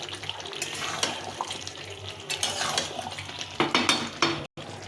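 A spoon stirs chicken curry with potatoes in a pan, giving a steady run of close scraping, clinking and wet bubbling that grows busier toward the end and stops briefly just before it finishes.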